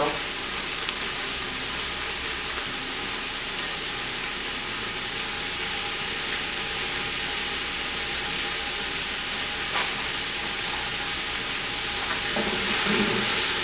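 Sausage browns in a pot for canned red beans, giving a steady, dense frying sizzle and hiss that runs nearly unbroken from start to finish, close and fairly loud, with no voices over it.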